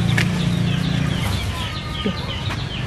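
A chicken clucking near its nest of eggs on a house roof, several short clucks and squawks close by, with rustling in the background.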